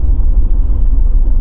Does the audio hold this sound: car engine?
yes